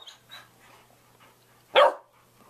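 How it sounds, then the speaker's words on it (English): A single sharp, loud dog bark from close by, coming after a few faint whimpering sounds in an otherwise quiet room at home. "What do you have to say to that baby who's barking like that?"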